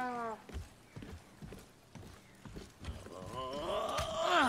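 Donkey hooves clip-clopping in the video game God of War, a few soft irregular hoof thuds at moderate distance, with an animal bray or whinny rising near the end.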